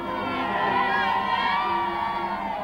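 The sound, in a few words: huge crowd awaiting royal visit in Bromley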